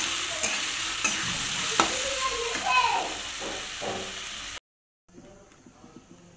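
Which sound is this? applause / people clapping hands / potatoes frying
potatoes frying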